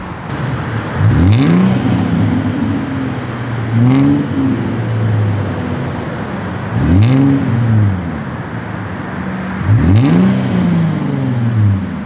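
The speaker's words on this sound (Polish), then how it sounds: "Tymczasem my ruszamy w trasę testować naszego Jaguara XJ" A Jaguar XJ L car pulls away on the road, its engine rising in pitch through several gear changes in repeated sweeping surges, steady and close with no talking.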